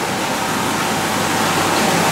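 Water from a fish tank being dumped out outdoors, a loud continuous rushing splash that holds steady throughout, close by, with no voices.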